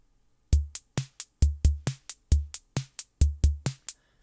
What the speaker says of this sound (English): Currently the default startup pattern is loaded, which sounds like this.